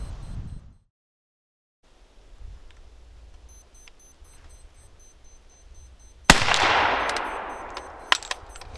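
A Mark III Snider-Enfield long rifle fires black powder rounds in rapid succession during a timed rapid-fire challenge: a loud sharp blast after a quiet stretch of handling noise, then a few metallic clanks and clicks.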